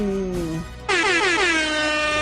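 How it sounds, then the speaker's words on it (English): Air horns triggered by a button press at a game, played before the anthem: a lower horn tone fades out and a loud, sustained blaring air horn blast takes over and holds steadily to the end. "Those air horns, man, they let us down last time."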